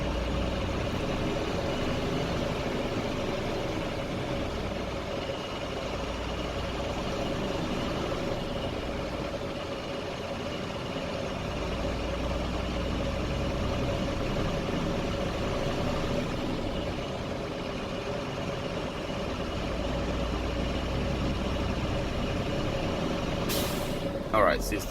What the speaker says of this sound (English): Press accelerator, raise RPM, and wait when the system is fully charged.